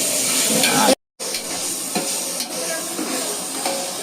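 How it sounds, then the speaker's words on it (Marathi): Chopped onions fry and sizzle in a pan for a village-style Konkan country chicken curry, with steady close hiss and occasional stirring scrapes, broken by a brief silent gap. "तर आता कांदा फ्राय चालू आहे."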